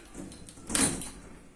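A door swings shut on its own, likely pushed by wind, giving a single thud at mid-clip that rises out of quiet surroundings and fades away.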